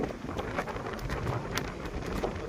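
Strong wind buffets and roars continuously, loud and rough, with gusty crackling bursts against the microphone and no clear voices.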